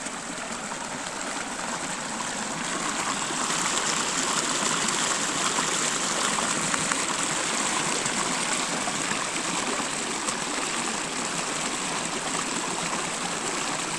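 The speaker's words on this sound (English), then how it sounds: "There is a little bit of water coming off of that." Small stream of water running off rocks in the Osage Hills, a steady close trickle and gush with a broad hiss that holds throughout, no talking.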